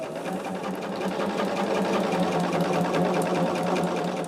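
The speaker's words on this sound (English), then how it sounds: "We are just getting this row sewn together here." A sewing machine runs steadily for several seconds, joining rows of a disappearing four-patch quilt top: a close, even, buzzing hum with a fine rapid needle pulse and no pauses or talk.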